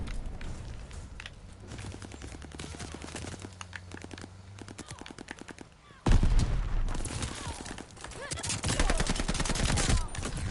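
Gunfire in a Call of Duty match, rapid clustered shots and bursts through the first half, then louder, denser firing and explosions toward the end, with faint talk in places.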